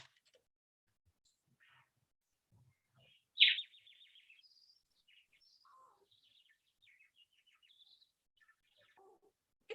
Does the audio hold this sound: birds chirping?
yes